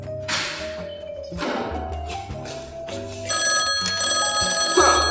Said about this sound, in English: It appears that I'm getting a phone call.